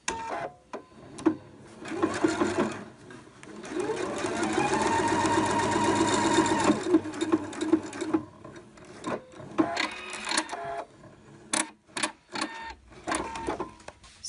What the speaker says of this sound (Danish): Så syr jeg min søm sammen.